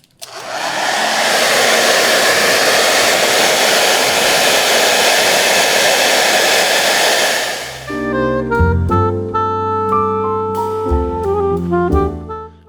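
A hair dryer blows loud and steady while hair is combed back for a classic men's style, then cuts off abruptly, leaving tonal music playing alone.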